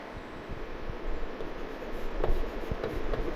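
White chalk scratches and taps across a classroom board in short irregular strokes, faint and close, over a low steady room hum, with no voices.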